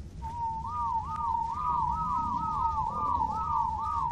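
A whistle command in ARK: Survival Evolved sounds as a clear, fairly loud melodic whistle that warbles up and down in repeated looping swoops for several seconds, with no voices.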